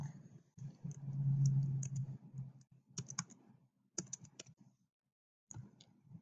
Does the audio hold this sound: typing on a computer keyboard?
yes